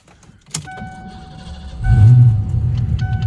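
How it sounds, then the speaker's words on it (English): A Ford Fox Body Mustang fires up quickly: a short starter whir and click, then the engine catches into a loud, close idle with an electronic chime sounding over it. "And it fires right up super quick."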